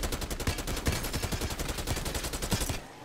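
An AK rifle in the Black Ops 6 zombies mode fires a steady, fast stream of shots, loud and close, stopping abruptly at the end.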